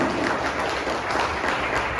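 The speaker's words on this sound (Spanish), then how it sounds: "Denle un aplauso" A church congregation applauds continuously, a dense, steady wash of many hands clapping at moderate volume with no pauses, filling the room throughout.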